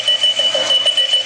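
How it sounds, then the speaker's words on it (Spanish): An alarm clock rings loudly and close with a steady, rapidly pulsing electronic beep that repeats throughout, with no voices. "El despertador suena."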